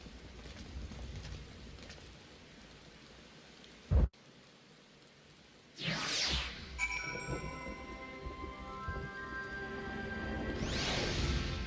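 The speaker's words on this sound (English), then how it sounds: "this scene is so dark with the rain and shit" Rainstorm ambience from a Final Fantasy XIV cutscene: steady rain, a sharp crack near four seconds, then rising swooshes and thunder swells over the pouring downpour, with no talk.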